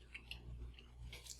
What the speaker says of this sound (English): I'm going to go ahead and take a bite and make sure that these turned out good.